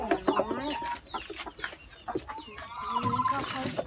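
Laying hens cluck steadily and close by inside a coop, several birds overlapping in short, busy calls with no pauses.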